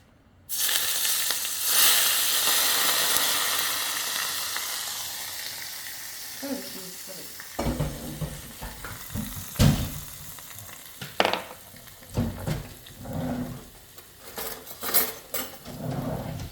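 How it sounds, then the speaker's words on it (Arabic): Spicy garlic Indomie ingredients fry in hot, bubbling oil, a loud steady sizzle that starts abruptly and fades slightly, with scraping and clinking of a utensil against the pan through the second half. "هلا الزيت هنا عنا غلي، عليها هلا هنحطه"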